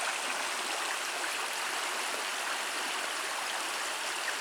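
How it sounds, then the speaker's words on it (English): A creek in Big South Fork runs high and fast, a steady broadband rush of water that stays loud and even throughout, with no voices. "the creek looks a lot higher than it did when we were here in October"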